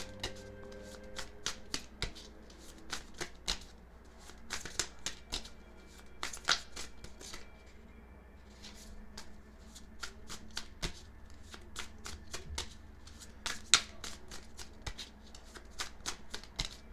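Tarot cards are shuffled by hand before a card is drawn: a run of quick, crisp riffles and slaps in irregular bursts, close and fairly quiet, with short pauses between them and no talking.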